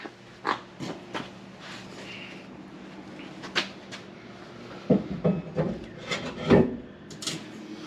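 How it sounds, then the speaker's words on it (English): Someone fits a cargo rack into the hitch on the back of an SUV, making scraping, rubbing and knocking metal sounds. The noises are scattered and close, with a few louder clunks toward the end. "Now we're going to throw a cargo rack on the back."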